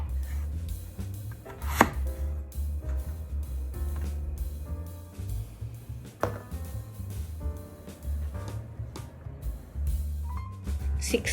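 Potato cut into bite-sized pieces on a board, a steady series of close knife chops with a low thud under each stroke and a few sharper clicks, no talking.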